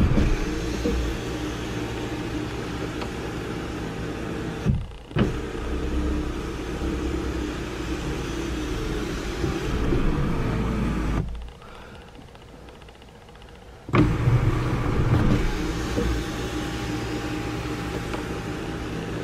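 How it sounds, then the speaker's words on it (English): The sunroof motor of a Jeep Patriot hums as the glass panel is run back and forth several times, a steady mechanical whir that stops briefly twice, the second stop longer, before starting again, all close up with no talking. "we'll operate the sunroof a couple times, get that grease moved in"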